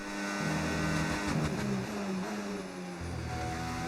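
An Alpine Formula 1 car engine in the F1 25 racing game revs steadily, a loud high-pitched whine with shifting pitch as it accelerates, alone throughout.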